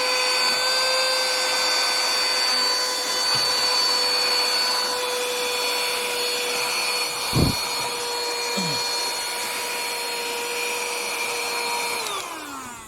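A small handheld vacuum cleaner fitted with a brush attachment runs steadily and loudly, its whine holding an even pitch with a brief bump midway and a slight drop near the end as it cleans a room or car interior.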